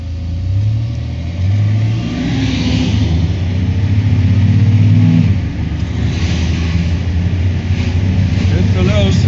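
A small six-cylinder car engine drones steadily on a test drive after a 4L60E transmission rebuild, revving up and easing off while people talk over it.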